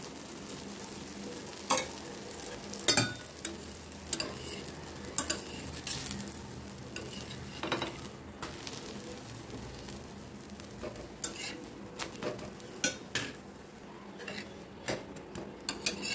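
A dosa frying with ghee on a griddle: a faint, steady sizzle runs throughout, broken by scattered clinks and scrapes of a utensil.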